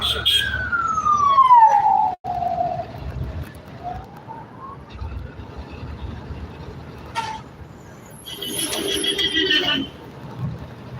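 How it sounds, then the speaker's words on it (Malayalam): An ambulance siren wails loudly at first, its tone sweeping down and then up again, followed by short horn toots amid heavy night traffic. "അടുത്ത ആംബുലൻസ് ആയിരുന്നു"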